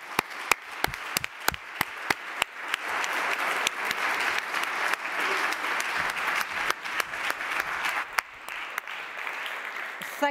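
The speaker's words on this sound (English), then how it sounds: "Let me again ask you for a hand of applause to Svetja and the whole team who were so nice to host us" Audience applause at an international conference on global partnerships for national agendas, a dense steady clapping from a large crowd lasting throughout, with sharp individual claps popping out near the start and a few later.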